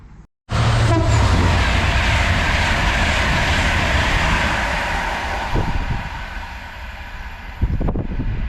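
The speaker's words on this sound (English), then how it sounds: "That was a 67 heading off to Cardiff Central from Manchester Piccadilly." A Class 67 locomotive-hauled train pulls out of Goostrey station after a sudden start, a loud sustained roar with heavy wind buffeting on the microphone that eases slightly as it moves off, with no talking.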